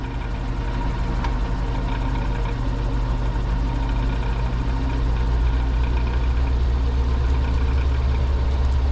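Wood lathe spinning at about 1,000 RPM while turning a vase blank gives a steady, droning motor hum that stays constant and fairly loud throughout, with no talking.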